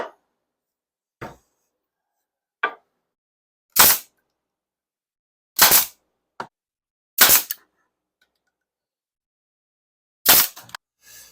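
A nail gun fires into the wood of a laptop stand, with seven or eight sharp, isolated shots separated by pauses of one to three seconds in an otherwise quiet room.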